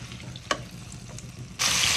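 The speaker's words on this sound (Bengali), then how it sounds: "এর থেকে এখন এই মাছ ভাজা তেলে সব সবজিগুলো আমি একটু হালকা ভেজে নেব।" Vegetables are tipped into hot oil left from frying fish in a wok: a low background sizzle, a faint clink, then a sudden loud hiss as they hit the oil and keep crackling.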